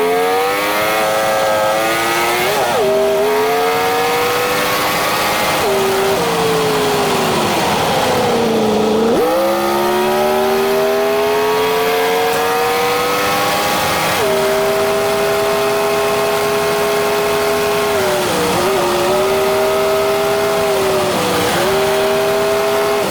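A 1959 Ford's engine revs hard through repeated gear changes as it drives fast, a loud continuous roar with pitch climbing, dropping and climbing again over about twenty seconds.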